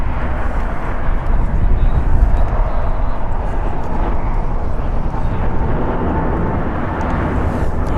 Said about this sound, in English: Departing here is United Airlines Flight 2161 going to EWR, a Boeing 787-10 Dreamliner, 5 years old.